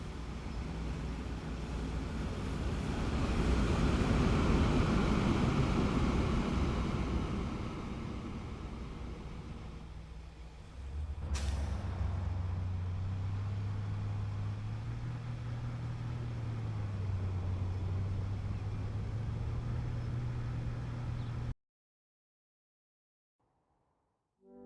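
Trucks and trains rumbling in the transport simulation game Transport Fever 2, a broad low drone of engines and rolling wheels that swells, dips briefly, then settles into a steady hum before cutting to silence.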